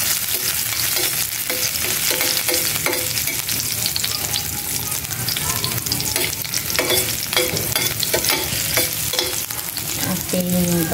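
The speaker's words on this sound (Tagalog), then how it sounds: "Igisa natin yung bawang, sibuyas at luya." Garlic, onion and ginger sizzle steadily in hot oil while being stirred in a pan, a dense continuous frying hiss with scraping stirs throughout, close and alone.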